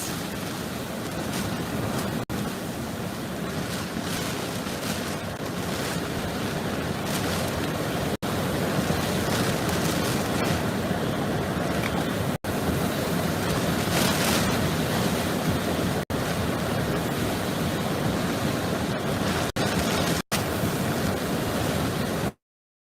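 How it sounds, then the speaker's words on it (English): Roaring hurricane-force wind from Hurricane Ian making Category 4 landfall on Florida's south coast, a dense, continuous howling rush battering the microphone for over twenty seconds with a few sharp knocks. "Huge gusts!"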